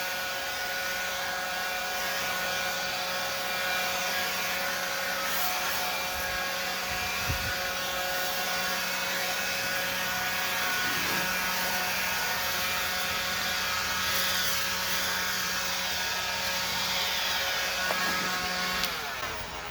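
Black & Decker 20 MAX cordless sweeper blowing steadily outdoors, a loud continuous whirring motor roar with a high fan whine that holds level for the whole stretch, no talking over it.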